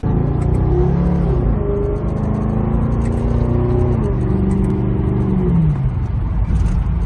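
A Ford Crown Victoria engine revving through a paddle-shift downshift, a loud, close, continuous drone whose pitch rises and then falls as the gears change, heard from inside the car with some speech.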